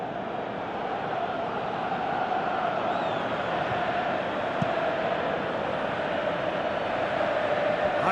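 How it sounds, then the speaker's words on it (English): A stadium crowd in PES 2018 on PS4, at a Europa League quarter-final between Borussia Dortmund and Torino, keeps up a dense, steady roar of chanting and murmur, broad and unbroken throughout. "you can hear how the crowd are reacting to this too"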